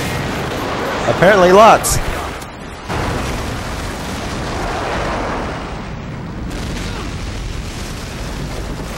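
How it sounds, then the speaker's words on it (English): Airstrike blasts rumble through a Modern Warfare 2 team deathmatch match on Xbox 360, a dense, continuous roar of explosions following a brief voice over the first two seconds. "Friendly airstrike inbound."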